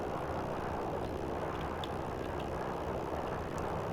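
A propeller airplane engine in the BeamNG Drive video game drones continuously and loudly, a steady broadband roar with no breaks or talking.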